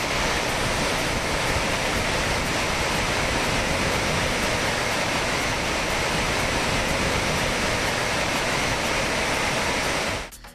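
Thiruparappu waterfall in full roar after heavy rain, a dense, loud and steady rush of crashing water that holds unbroken for about ten seconds before cutting off abruptly at the end.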